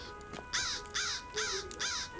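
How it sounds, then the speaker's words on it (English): Crows in the video game Lord of the Rings Online caw four times in a steady rhythm, harsh and throaty, at moderate distance over quiet game ambience with no talk. "these are tamed crows, so they're not going to attack me."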